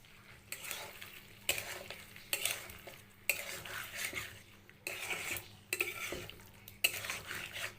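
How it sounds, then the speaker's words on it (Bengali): A spoon stirs chicken curry with tomato sauce in a pan, scraping in regular strokes about once a second over a soft sizzle. Each stroke is a close, clattering metal scrape, with no voices. "সসটা দিয়ে ভালো করে নাড়িয়ে নেবো"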